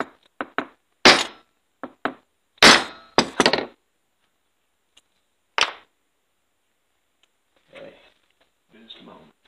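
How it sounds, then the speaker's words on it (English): Sharp hammer taps drive a pin out of the oil pump on a Stihl MS400C chainsaw, a handful of close, hard knocks in uneven bursts with gaps between, followed by faint rustling handling noises. "Drive this pin out, you drive it towards the saw body."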